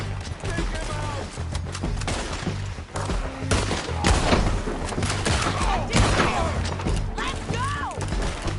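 Video game gunfire bursts repeatedly through a dense battle scene, with rapid shots and crashes layered over a continuous low rumble and occasional voices.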